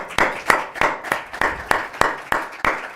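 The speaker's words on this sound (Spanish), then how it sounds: "Muy bien, por favor, un aplauso." Hand clapping for a speaker at a conference, about ten evenly spaced, sharp claps over three seconds, sounding like a single person or a small group rather than a large crowd.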